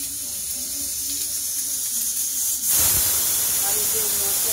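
Cumin seeds, bay leaf and dried red chili hit hot oil for a tadka, bursting into a sudden loud hiss and crackle partway through that keeps sizzling steadily after a quieter stretch.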